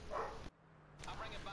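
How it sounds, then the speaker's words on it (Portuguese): A neighbor's dog barks twice, short sharp yaps separated by a brief silence, moderately close. "O cachorro do vizinho aqui tá latindo"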